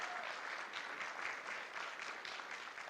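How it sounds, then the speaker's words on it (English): Applause from parents at a second-grade celebration for young horse riders, a steady wash of clapping that fills the whole moment at moderate distance, with no voices. "Can you give them a big round of applause?"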